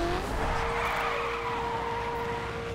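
A Mercedes SL63 AMG slides sideways in The Crew racing game, tires squealing in a long steady skid over a continuous engine roar, loud and close.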